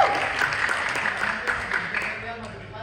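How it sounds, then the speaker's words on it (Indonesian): Audience applause at a music event, steady crowd clapping through the whole stretch, moderately loud with voices talking over it. "Tepuk tangan dulu dong"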